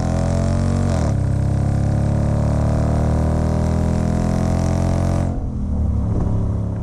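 A 2021 Dodge Durango R/T SUV with a HEMI V8, 8-speed automatic and all-wheel drive accelerates hard on backroads, its engine note climbing steadily in a loud, close, continuous roar before easing off near the end.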